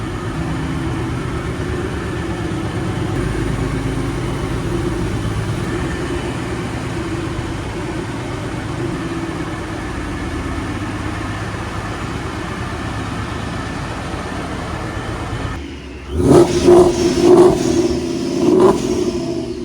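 A Ford Mustang engine runs with a steady low rumble for a long stretch, then changes sharply near the end into louder, choppier bursts as the engine note rises and falls.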